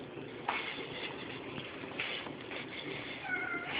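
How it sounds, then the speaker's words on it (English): Cats meow during a May 2011 tornado, short faint cries rising over a constant roaring, rumbling noise from the storm. "Yes, I know, kitty cats."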